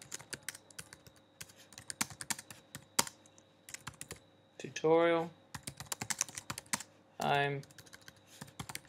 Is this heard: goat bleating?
no